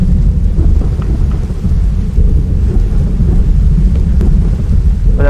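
Loud, continuous thunderstorm in Minecraft during a tornado, with deep rumbling thunder and a steady rain-like wash filling the whole stretch and no break.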